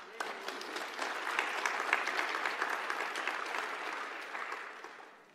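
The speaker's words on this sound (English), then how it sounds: "I think he deserves a round of applause for that" Applause from an audience at a lecture on transformational change in Africa swells quickly into dense, sustained clapping, holds for several seconds, then tapers off near the end.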